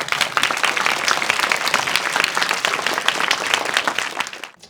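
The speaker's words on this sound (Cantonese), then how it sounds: "大家喺度俾啲掌聲佢哋" Audience applause at a film screening Q&A in London's O2, loud, dense clapping that holds steady and then fades out at the end.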